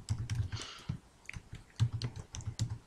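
Fingers tap out an email address on a computer keyboard, a quiet, close run of soft keystrokes in uneven clusters with brief gaps between them.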